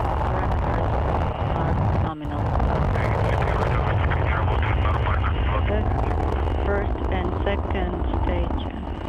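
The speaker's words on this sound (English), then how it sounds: "Liftoff of the Soyuz rocket as Jeff Williams, Max Suraev, and Guy Lalibe" Soyuz TMA-16 rocket lifting off with its engines at maximum thrust, carrying the Expedition 21 crew to the International Space Station: a loud, continuous broadband roar that fills the whole clip, with one brief dip near the start.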